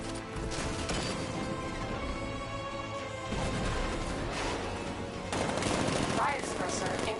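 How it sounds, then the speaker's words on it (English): A 60mm tank cannon blasts repeatedly in a Batman video game battle through Chinatown, dense loud booms and crashing gunfire layered under a game voice, with a heavier burst near the end. "60mm cannon operational."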